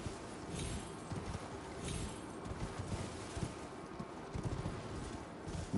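Horse hooves clip-clop steadily across the ground in the Elden Ring video game, a continuous moderate-level trot with rhythmic impacts and some ambient background, no talk over it.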